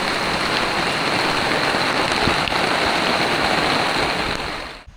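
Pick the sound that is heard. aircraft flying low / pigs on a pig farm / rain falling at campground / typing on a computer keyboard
rain falling at campground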